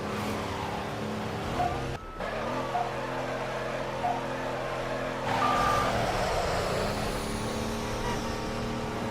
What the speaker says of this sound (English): As I am starting this off, driving my big black Cadillac